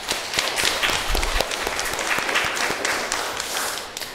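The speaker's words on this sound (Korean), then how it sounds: "고생한 우리 모두를 위해 박수 한번 칠까요?" A congregation gathered for Mass on the Feast of the Assumption claps together, a full, lively round of applause filling a reverberant church for about four seconds, with a few sharper individual claps standing out.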